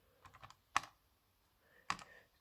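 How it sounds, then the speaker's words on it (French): Buttons pressed on a handheld calculator while entering an arc sine: a few soft quick taps, then two distinct, sharper key presses about a second apart in a quiet room. "si j'ai une calculatrice comme ça, je tape arc sinus de mon rapport"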